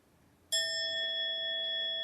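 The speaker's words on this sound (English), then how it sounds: "We're going to start with the sound of the bell." A single bell is struck once and rings out clearly, its bright tone sustaining steadily in an otherwise quiet space.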